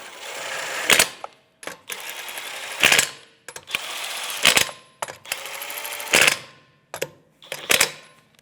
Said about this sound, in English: we're just going to snug them up and torque them to factory spec